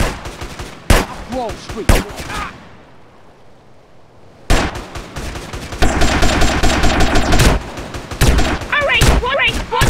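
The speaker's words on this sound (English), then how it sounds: "Okay, so we gotta use that submachine gun." Submachine gun fire in GTA San Andreas, with rapid bursts of loud automatic shots crackling in fast volleys, a brief lull in the middle, then longer sustained bursts, while a player exclaims over it.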